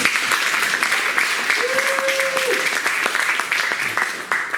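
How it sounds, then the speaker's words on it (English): Room-filling applause from a real estate seminar audience as a guest is called to the stage, steady dense clapping with a brief whistle-like tone rising above it midway. "let's give a round of applause"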